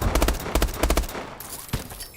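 Semi-automatic three-round burst gunfire in Call of Duty Advanced Warfare: sharp close shots in two quick clusters of rapid reports, then a lone shot after a brief gap.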